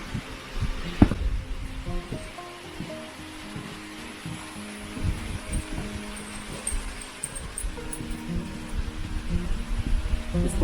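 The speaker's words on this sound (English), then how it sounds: "I want to show you the waterfall." A waterfall at an outdoor spot with cactus gives a steady, broadband rushing wash of falling water, moderately distant and continuous throughout, with a sharp knock near the start and faint murmurs of people nearby.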